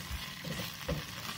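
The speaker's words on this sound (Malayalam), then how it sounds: "അപ്പൊ ഇതൊന്ന് ചൂടാകുന്ന വരെ നമുക്ക് ഇളക്കി കൊടുക്കാം." Brief close stirring of thick pepper chicken gravy in a pan, two soft spoon scrapes over a gentle sizzle, no talk.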